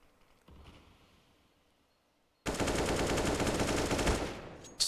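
A loud automatic gun spray bursts in Counter-Strike on the Inferno map, a sustained rapid rattle lasting about two seconds after a quiet lead-in with faint distant shots.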